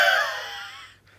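A voice imitating heavy, loud breathing heard during silent-retreat meditation, one drawn-out wheezy exhale that fades within a second.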